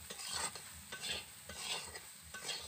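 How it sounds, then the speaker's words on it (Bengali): Soybean chunks stirred and fried in leftover oil in a pan, with a steady sizzle and repeated scraping strokes about every half second, close and clear with no talking. "তো সয়াবিনটা ভালো করে নেড়ে চেড়ে ভেজে নিচ্ছি।"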